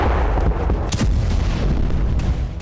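An explosion in Lebanon sounds as a heavy, rumbling blast with a sharp crack near the one-second mark, set inside dense, continuous low roaring noise.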